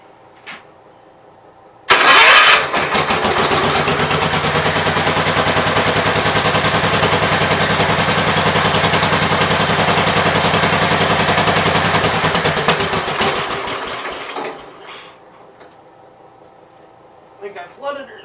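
A Gravely 810 tractor engine cranks, catches and runs with a loud, rapid, uneven popping roar for about ten seconds before sputtering and dying away. A few faint knocks follow.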